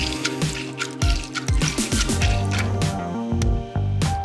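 Lemon juice is squeezed by hand over a clove of garlic and lemon zest, giving close, wet drips and squishy squirts in irregular bursts, with no talking.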